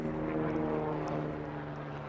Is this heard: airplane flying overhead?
yes